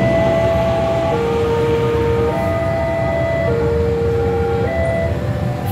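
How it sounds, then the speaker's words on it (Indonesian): CC 206 diesel locomotive shunting near Loko Cafe in Yogyakarta, its horn sounding as a loud, steady two-tone blast that alternates pitch several times over a constant engine rumble. "Lansiran lokomotif nih. CC 206 13 17 di Penuk SDT."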